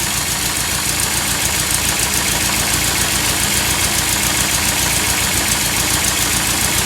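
A restored 1965 VW Beetle engine idles steadily while warming up, a loud, close, evenly pulsing mechanical chug that holds unchanged throughout with no voices.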